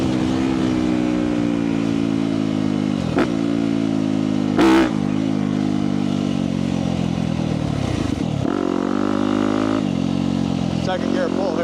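A 2017 Yamaha YZ250F dirt bike pulls hard in second gear, its loud, close engine note rising steadily with a brief gear-change dip partway through, and a voice speaks over it.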